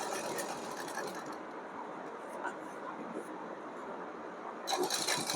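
Steady mechanical whir and ticking of a sewing machine stitching a pocket onto ladies' pants, running at an even pace at fairly low level, with a brief sharper rattle near the end.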